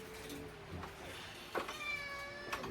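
A cat meows once, a short harmonic cry rising near the end, fairly close over a quiet indoor background with faint room noise.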